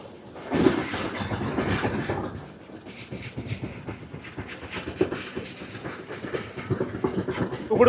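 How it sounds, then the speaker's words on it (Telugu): The Visakhapatnam SF Express 20812 rolls around a curve on a single electrified line, a continuous close rumble of wheels with rhythmic clickety-clack and occasional squeal. "మన ట్రైన్ ఇక్కడ ఒక బ్యూటిఫుల్ కర్వ్ అయితే తీసుకుంటుంది."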